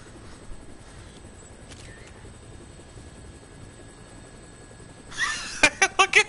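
A helicopter in the video game Dead Rising drones as a steady, even rotor wash, then a short burst of sharp clicks and knocks at the very end.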